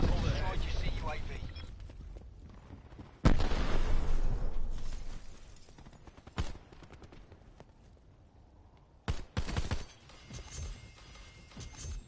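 Explosions and gunfire from a Call of Duty match during a Hellstorm missile strike, with a heavy blast, several sharp bursts and scattered shots over rumbling background combat.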